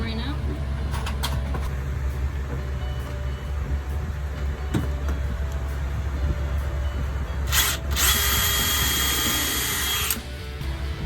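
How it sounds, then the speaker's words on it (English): A power drill whines briefly under constant engine and water noise aboard a Catalina 22 sailboat, with a loud burst of high-pitched drilling near the end. "Now, I need to drill."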